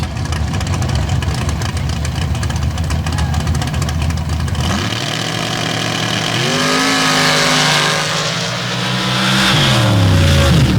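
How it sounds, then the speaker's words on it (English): Pro stock drag racers, a Ford-powered Jeep and a 1991 Chevrolet, roar side by side at an MRA championship meet. A constant loud engine blare opens the clip, then rising revving engine tones sweep upward as the cars launch and pull away. "the Ford-powered Jeep, the Illini going side by side with the 91 Chevrolet out of DeWitt, Iowa, Cody Snodgrass"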